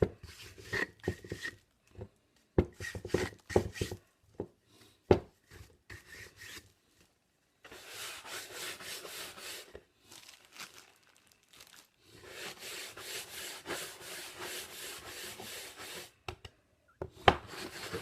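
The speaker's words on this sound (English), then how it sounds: "Go with the brush, clean it out." A brush scrubs and rubs trapped cement out of lead came in leadwork, starting with short, irregular scratchy strokes separated by pauses and then settling into longer, continuous rasping passes up close.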